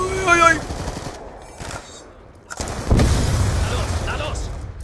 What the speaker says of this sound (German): Oh, explodiert hier gleich.